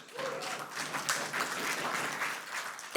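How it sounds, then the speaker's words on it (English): An audience applauds in a conference hall after a talk on kinship care, foster care and adoption, a steady wash of many hands clapping, fairly soft and distant throughout. "Thank you for the clap"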